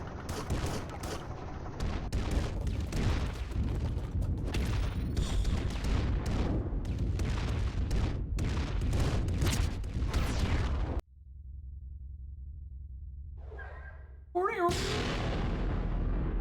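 Explosion in the game Environmental Station Alpha, a loud dense rumbling blast that keeps on for several seconds, cuts off abruptly, then bursts back in.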